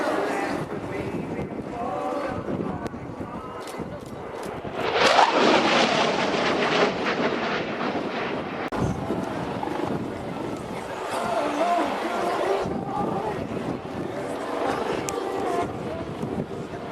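An RAF Typhoon fast jet makes a low, high-speed final pass at an airshow, its roar surging loudly midway and then rumbling on into the distance under heavy wind noise.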